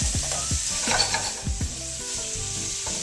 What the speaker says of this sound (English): Just saute these by themselves just for a minute or so.